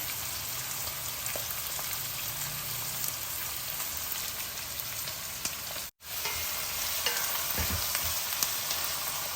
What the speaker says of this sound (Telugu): నూనె వేడెక్కింది కదా ఇందులో ఉల్లిపాయలు వేసేద్దాం ఉల్లిపాయలని బాగా వేగనిద్దాము